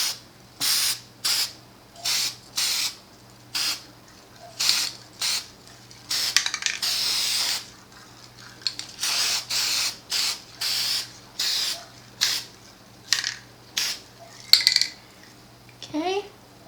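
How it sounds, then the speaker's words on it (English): Short bursts of black chalkboard spray paint hiss onto glass mason jars indoors, a dozen or so separate sprays in an uneven rhythm with quiet gaps between them, close and fairly loud. "we are going to give these a quick coat with black chalkboard paint"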